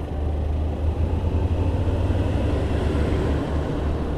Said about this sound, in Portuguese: ter que passar esse caminhão